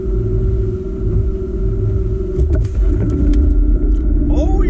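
A car pulls away hard from a dead stop on a 0-to-100 km/h run, with a loud, steady low engine rumble building throughout and a brief tire scratch near the end.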